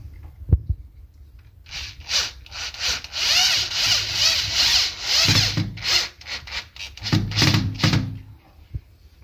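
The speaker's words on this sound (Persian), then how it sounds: "به وسیله پیچ این پایه فلزیمون رو به روی دیوار سفت میکنیم" Metal shelf bracket being screwed onto a wall through three pre-drilled holes, a series of close, loud bursts of grinding screw-driving with brief pauses between them, no talking.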